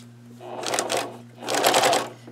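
A sewing machine stitches down the pocket and flap edges of a denim notebook cover in two close, steady bursts of rapid mechanical whirring, with a low motor hum running underneath.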